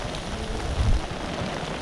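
Heavy rain pours steadily on Biligiriranganabetta hill, a dense, close hiss with a brief low thump near the middle.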